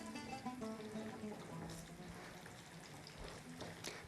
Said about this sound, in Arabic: نسمع حسه. نخلي البصل يتقلى مليح